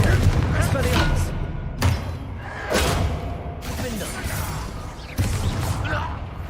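Confringo and Expelliarmus spells blast in the Hogwarts Legacy video game, several sharp bursts and booms scattered through a fight while a character speaks over the action.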